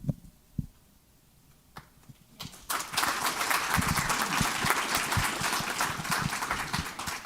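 A room full of people bursts into sustained applause for a finished panel on sustainable finance, the dense clapping rising after a few scattered claps and a quiet lull, then holding steady and full.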